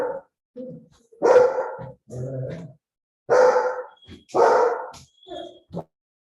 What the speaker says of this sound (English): While Jean manages her dog